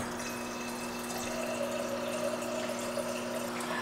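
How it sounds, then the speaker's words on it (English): Water runs steadily from a household tap, a continuous even rush with a faint tonal hum beneath, holding at a moderate level throughout with no talking. "getting some water."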